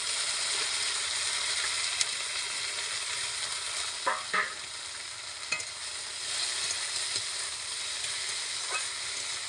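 Mustard flowers frying in a pan with nigella seeds give a steady, close sizzle, broken by a few sharp scrapes and clicks as a spatula stirs them.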